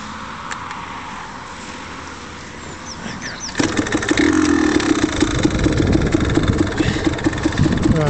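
A Yamaha DT125R motorcycle engine catches after a quiet start and settles into a loud, steady idle with a regular pulsing beat, close up and without speech.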